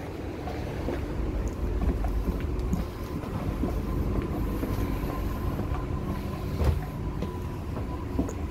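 Inside a moving Dubai Metro train, a steady low rumble of the carriage blends with airy hiss and faint creaks, continuous and even with no talking.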